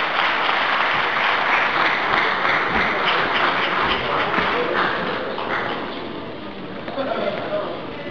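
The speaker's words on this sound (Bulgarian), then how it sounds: "Още веднъж аплодисменти." A crowd at a youth football awards ceremony for Lokomotiv Plovdiv applauds loudly and continuously, then thins to softer scattered clapping with some murmuring near the end.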